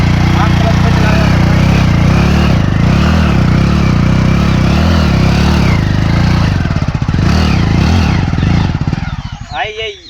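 Old-model Hero HF Deluxe motorcycle engine running in gear during a power test: a loud, close, continuous idle-like thrum that pulses slightly and then tapers off at the end.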